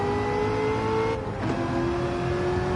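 A car engine in Gran Turismo 7 drones and revs continuously, a steady loud tone that dips briefly as it shifts, then climbs again, with no talk over it.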